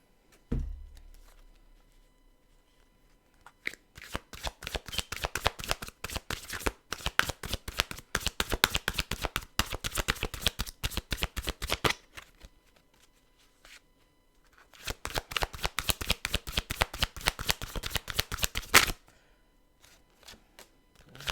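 Tarot cards being shuffled in two long bursts of rapid, crisp riffling flutters, close and fairly loud, separated by a short pause with quiet gaps at the start and end; no talking.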